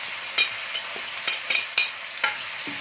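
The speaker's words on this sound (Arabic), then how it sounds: "اشوحها كده شويه مع الفرخه" Chicken sautéed in ghee with tomato, carrot, onion, bay leaf, cardamom and thyme, stirred in a pan: a steady close sizzle broken by several sharp scraping clacks of the spoon against the pot.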